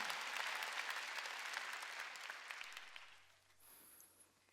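A church congregation claps together during a Wednesday worship service, a dense, steady wash of many hands that gradually thins and fades toward the end.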